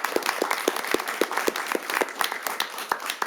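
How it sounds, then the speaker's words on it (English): A modest round of applause at a city council meeting: scattered individual claps stand out distinctly within a light, uneven patter from a small group, moderately loud and without speech. "So I just want to give them a round of applause."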